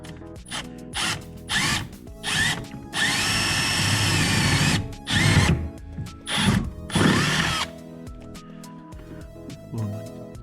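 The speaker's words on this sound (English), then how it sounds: "I'm gonna start with my first hole here. I'm gonna screw all the way through." A power drill bores holes through metal for a battery relocation on a 1987 Honda Prelude Si, running in repeated whirring bursts of varying length, one long sustained run among them, with brief ratcheting pauses between them.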